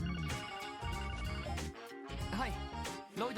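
A telephone ringing in the video game Trails from Zero, a repeating electronic ring tone in even bursts with short gaps, heard over game music.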